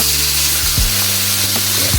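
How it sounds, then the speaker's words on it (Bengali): Koi fish fry in hot oil in a pan, a steady loud sizzle running throughout with a few brief scraping stirs. "এখন আর একটু ভালো করে লাল করে ভেজে নেব।"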